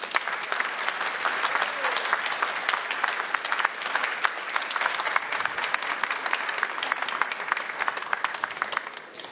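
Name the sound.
audience applause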